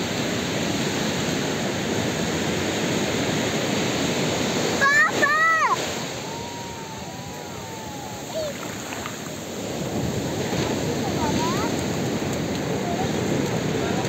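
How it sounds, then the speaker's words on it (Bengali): Loud surf crashing on the beach at Puri, a steady broad roar of breaking sea waves that carries on throughout, with a few brief voices over it. "বাবারে বাবা, কি আওয়াজ রে সমুদ্রে!"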